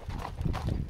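A horse's hooves clop over a mountain trail during a ride, a few close, uneven thuds in a brief burst with no voices.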